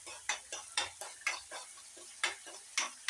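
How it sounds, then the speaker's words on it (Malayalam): Masala being sautéed and stirred in a pan. A steady, rhythmic run of about eight scraping spoon strokes sounds close over a faint sizzle. "ഏകദേശം അതിൻ്റെ പച്ചമണം മാറുന്ന വരെ വഴറ്റി കളർ മാറി തുടങ്ങി."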